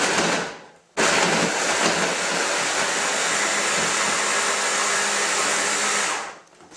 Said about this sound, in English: peel them and just blitz them in my food processor